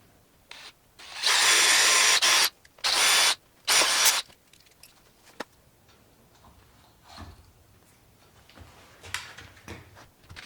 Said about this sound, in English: Drill a little hole to put a set screw in the dowel.